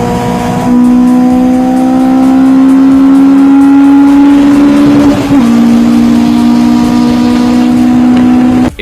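Honda S2000 AP1 with its 2-liter VTEC engine revving hard, a loud steady high-pitched engine tone rising, dipping briefly as it shifts, then climbing again, close and continuous.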